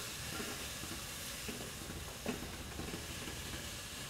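Vegetables sauteing in a pan for a turkey rice soup, a faint, steady hiss-like sizzle with occasional small pops, heard close and alone without talk.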